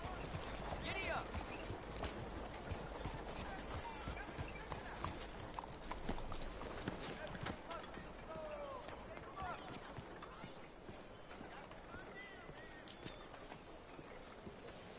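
A horse gallops in Red Dead Redemption 2, quick rhythmic hoofbeats running steadily at moderate volume with game ambience around them and a voice speaking now and then.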